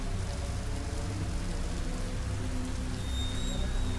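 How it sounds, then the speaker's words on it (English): Steady rain pours down in a horror video game, a dense, even hiss of falling water with a faint low rumble underneath, continuous and unbroken throughout. "Bro, it's raining."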